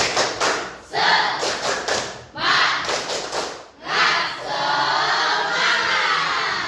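A class claps in a quick patterned rhythm for a spirit-raising clapping cheer, breaking into bursts of loud shouted cheering between rounds, close and energetic.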